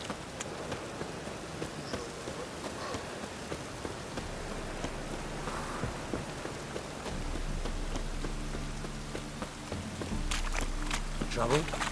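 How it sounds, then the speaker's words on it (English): Rain patters steadily on surfaces in The Witcher 3: Wild Hunt, a soft, continuous hiss with scattered drop sounds, while voices speak over it and a low rumble swells near the end. "Looks like rain."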